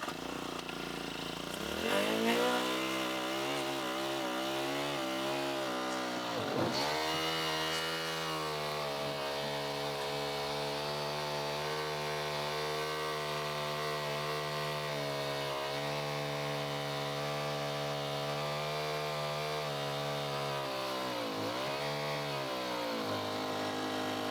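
A small engine-driven pump moves maple sap from tanks, its motor running as a loud, steady drone close by, with brief revs early on and a short dip near the end.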